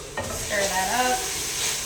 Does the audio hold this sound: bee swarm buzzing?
no